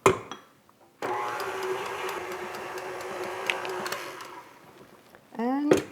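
An electric mixer whirs steadily for about four seconds, blending rum extract into poppyseed filling for a German crumble cake, then briefly runs again near the end, with talk before and after.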